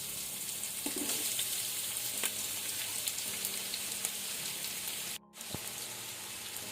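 Sliced onions fry in hot ghee in a pan over medium-high flame, a steady close sizzle and crackle with a brief dip partway through before the hiss returns.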